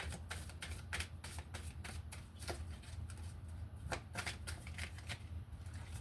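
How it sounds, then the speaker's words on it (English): A tarot card deck being shuffled nearby, with a steady run of crisp riffling flicks and soft papery snaps repeating over several seconds, quiet and close with no talking. "All right, let's get one more card, just kind of for the whole thing here."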